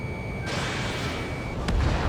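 Gunfire in the Ace Combat 7 combat flight game: a steady, dense roar of shots with a sharper, louder burst near the end, and no voices.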